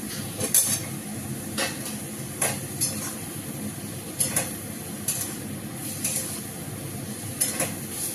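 Spiced masala sizzles steadily in a pan as koftas are added, with a few sharp metallic clinks and scrapes of a spoon against the pan over continuous frying hiss.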